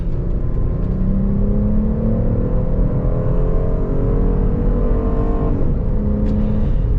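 An original Porsche Cayenne SUV accelerates hard, its engine note rising steadily as it builds speed, loud and close throughout with a continuous rumbling drone and no talking.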